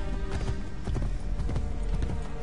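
Steady, fast hoofbeats of a galloping horse in Assassin's Creed Brotherhood, loud and near, drumming in an unbroken rhythm throughout with no voice over them.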